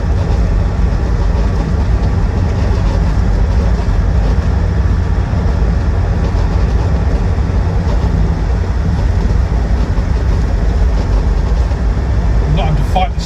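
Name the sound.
Land Rover Defender 90 TD5 driving at a steady 50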